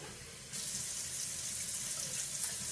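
Water for rice, 1.5 cups, poured into the pot as a steady rush that starts abruptly after a quiet half-second and keeps going evenly, close and fairly loud, with no voices.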